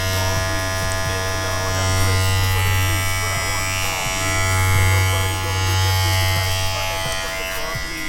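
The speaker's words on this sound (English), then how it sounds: "So this is actually vibrating very solidly in the hands, and of course there is really no much noise to this." A Kiki NG-888 professional hair clipper runs steadily at close range, a continuous low electric buzz with a bright whine above it that swells and dips slightly as the clipper is handled, with no talking.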